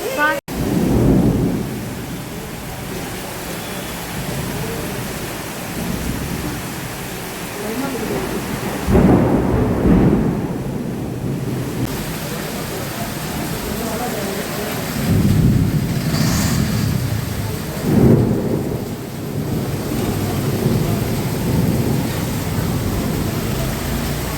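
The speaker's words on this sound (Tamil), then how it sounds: "மழை செம்ம இடி. பாருங்கள் எப்படி இடிக்குது" Heavy evening rain pours steadily during a thunderstorm with the power cut, while loud rolls of thunder swell and rumble several times over the constant hiss of the downpour.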